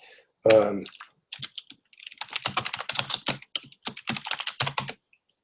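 Fingers tap a computer keyboard in quick irregular bursts of clicks, close and clear, after one brief spoken interjection at the start.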